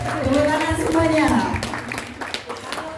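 An audience at a school appreciation night breaks into scattered clapping beneath a man's amplified speech, the applause rising under his voice and then thinning out into a few claps.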